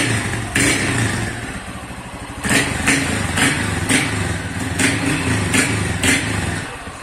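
Honda Fan 160 motorcycle from 2021 fitted with a tin Polimet exhaust, idling with a lumpy rumble and then blipped in several short, sharp revs, loud and close.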